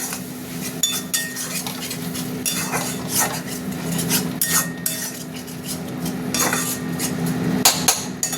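Spice masala with yogurt is stirred in a pan, with repeated metallic scraping and clinking of a spoon against the pan in an irregular rhythm over a low steady hum, close and clear, no talking.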